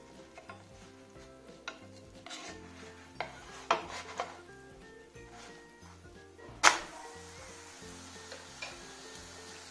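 A spatula scrapes and taps against a pan while flipping an eggless veg omelette cooking on low flame. Scattered sharp clinks and rasping strokes sit over a soft, steady sizzle, with no talking.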